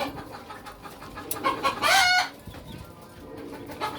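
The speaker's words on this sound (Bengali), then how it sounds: "এই মুরগিগুলা এই রাক্ষসী মুরগিগুলা" Hens on a farm raising quail cluck in short bursts, building to a loud, drawn-out squawk in the middle, then settling back into softer clucking.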